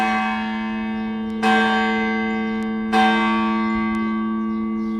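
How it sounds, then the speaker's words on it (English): A church bell tolls near 7 p.m., three strong strikes about one and a half seconds apart, each leaving a long ringing hum that carries over into the next, with no voices. "That's the bell."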